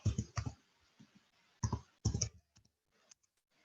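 Keys clack and a mouse clicks at a computer while someone edits a Wikipedia article, quiet close taps arriving in short bursts separated by pauses.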